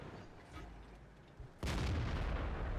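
A tank gun firing a snapshot at an enemy in World of Tanks gives a single loud, sudden blast that jumps out of a quieter rumbling background and rolls on as a dense, sustained roar.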